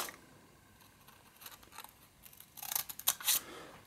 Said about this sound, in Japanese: 一旦裏返し、ハサミでこの部分まで切ります。